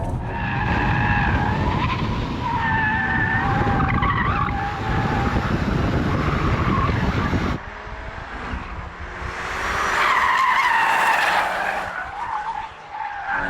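Tires squeal and skid loudly as a Volkswagen Golf R slides during a handling test, engine droning underneath; after a brief dip, a second long screech rises and fades.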